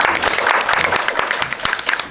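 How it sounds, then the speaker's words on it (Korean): An audience at a hospital policy seminar on disability access applauds, giving dense, continuous clapping from many hands that stays loud and even for the whole stretch in an indoor hall. "박수 부탁드립니다."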